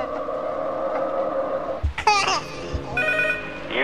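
An old-style telephone rings in the horror video game P.T., with a couple of loud trilling bursts cutting through an eerie droning backdrop in the second half.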